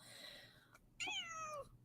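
A cat meows twice, a softer drawn-out meow followed by a louder, rising-then-falling one, close by with a quiet room behind.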